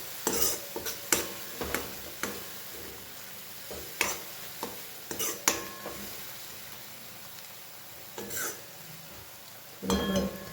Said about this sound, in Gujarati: હળદર, ધાણા જીરું અને મીઠું પણ એડ કરી દઈએ. સરસ મિક્સ કરી લઈએ.